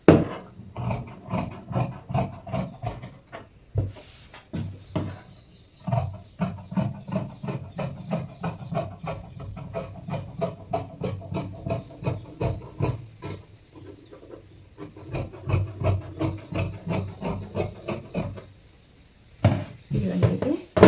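Scissors cutting blouse fabric on a table: a long run of rapid, crisp snipping strokes in regular bursts, close and moderately loud, pausing briefly a few times, with faint talk at points.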